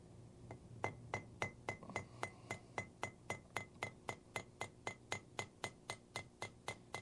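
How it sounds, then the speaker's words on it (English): A smooth-faced hammer strikes a steel bench block again and again during knife making, about twenty sharp metallic blows in a steady rhythm with a clear ringing tone, close and alone. "We're using, by the way, a very smooth-faced hammer."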